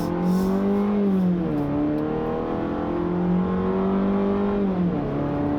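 A 2016 Fiat 500X crossover engine drones loud and close, holding a steady pitch that dips twice and then climbs again as it is revved and shifted.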